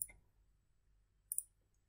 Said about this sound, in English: So now when I click this, it returned the same error